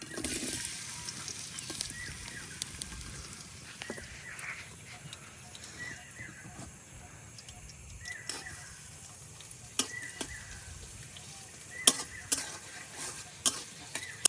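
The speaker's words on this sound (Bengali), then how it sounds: "পেঁয়াজ আর রসুনটারে আমি হালকা ভাজে নিছি" Onion and garlic frying in oil in a kadai while cooking with dried fish: a steady low sizzle and soft stirring scrapes, with occasional sharper clinks near the end, no voices.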